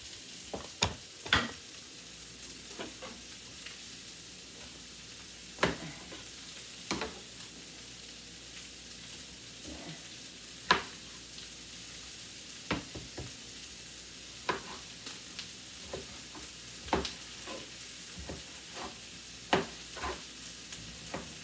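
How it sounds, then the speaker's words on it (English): Cut bell pepper and butter sauté in a pan, a steady soft sizzle with scattered sharp crackles and pops throughout, close and fairly quiet, with no talk. "Saute a little bit."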